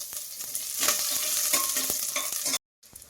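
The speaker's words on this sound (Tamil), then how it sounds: "எண்ணெய் ஊற்றி கொஞ்சமாக கடுகு உளுத்தம் பருப்பு போட்டுக்கலாம்" Mustard seeds, urad dal, fenugreek and curry leaves crackle and sizzle in hot oil in a pan, with dense close popping and spatter that cuts out briefly near the end.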